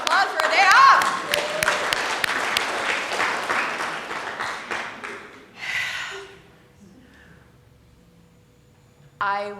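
An audience bursts into applause, a dense rush of clapping that swells then fades over several seconds, followed by a few scattered voices and a brief final patter of claps.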